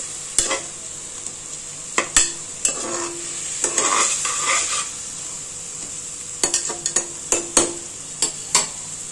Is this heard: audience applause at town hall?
no